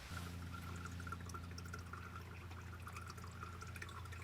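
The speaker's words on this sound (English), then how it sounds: "Should fill my water bottle up." At an overnight campsite, water trickles and gurgles into a water bottle, a faint, steady pouring over a low background hum, with no talking.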